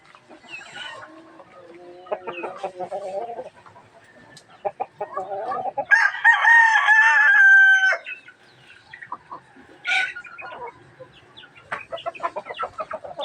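Chickens in a coop cluck in scattered bursts, and a rooster crows loudly and close for a couple of seconds midway, with more clucking and faint farmyard noise around it.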